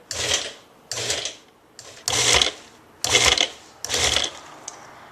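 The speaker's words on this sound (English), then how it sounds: "each time I pulse it, instead of just running the food processor continuously" Food processor pulsed on basil leaves in six short bursts, each a loud whirring buzz about half a second long, with brief quiet gaps between them.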